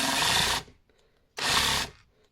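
Parkside Performance X20V cordless reciprocating saw motor, newly fitted with a replacement board, whirring in two loud separate bursts of about half a second each with a quiet gap between.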